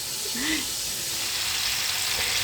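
Chicken drumsticks fry in a pan, giving a continuous bright sizzle with a brief tonal squeak near the start and no voices.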